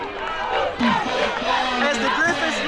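A home crowd at a DCIAA high school football game between the Bell Griffins and Ballou Knights roars and shouts continuously, a dense wall of cheering voices swelling slightly partway through.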